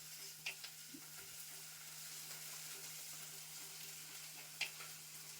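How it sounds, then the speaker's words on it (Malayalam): Crushed ginger and garlic frying in a pan while being stirred for a squid roast, a faint, steady sizzle with a low hum and a few soft scrapes of the spoon. "ഇഞ്ചി വെളുത്തുള്ളി ചതച്ച് വെച്ചതാണ് ഇടുന്നത്. അതിന് പച്ചമണം മാറുന്നത് വരെ ഇളക്കുക."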